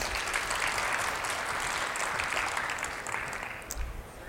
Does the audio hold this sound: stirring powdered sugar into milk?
no